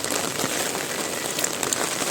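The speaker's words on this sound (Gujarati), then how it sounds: "આવી રીતના વરસાદ ચાલુ ને ચાલુ રીએ છે" Steady rain pours during a long spell of flooding in Rajkot, a continuous dense hiss with scattered drop patter, fairly close and alone with no voices.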